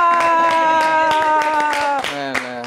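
A church audience claps in a steady rhythm over loud, sustained worship music with held keyboard-like tones, the claps sharp and regular throughout.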